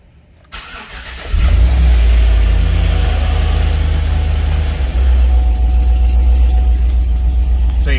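A 2011 Chevrolet Suburban with a 5.3L V8 cranks, fires up and settles into a loud, steady rumbling idle close by, with no talking.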